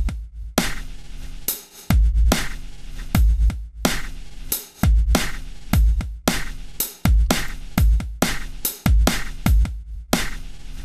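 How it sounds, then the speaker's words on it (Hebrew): A looping music clip plays with its tempo swept by MIDI mapping between 60 and 160 BPM, a loud repeating beat of strong low thumps whose spacing shifts across the passage, with no voices over it. "בעצם הקצב משתנה ככל שהקליפ הזה עולה"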